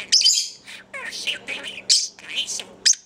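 A pet budgie chirps and squawks in quick bright bursts, close to the mic, with a few short gaps and a sharper call near the end.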